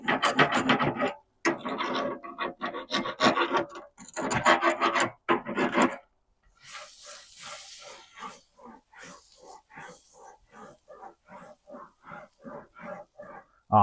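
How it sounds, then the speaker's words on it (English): A scraper rasps stubborn residue off a grill grate in loud, rough bursts, then settles into a quicker, steady run of rhythmic scraping strokes, close and unaccompanied by talk. "for any of that stubborn stuff, you just scrape that off"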